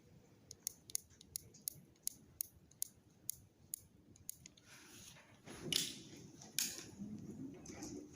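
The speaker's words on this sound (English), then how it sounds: "So we're going to start with 10 clicks to the left because we're only at 20 yards." An air rifle scope turret being turned gives a run of about a dozen crisp, evenly spaced clicks close by, followed by softer handling rustles and shuffling.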